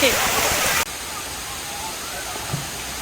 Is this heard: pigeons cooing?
no